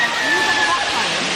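Secret Falls on Kauai's Wailua River pours with a dense, continuous roar of falling water, loud and close.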